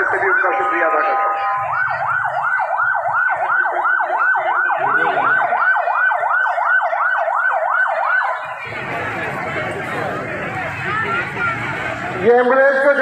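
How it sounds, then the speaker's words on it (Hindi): An ambulance siren wails in a steady rising-and-falling cycle through Karachi traffic on Sharah-e-Faisal, loud and close, then cuts out into dense street noise and crowd chatter before a brief siren burst returns at the end. "एम्बुलेंस के लिए जगह बना दें।"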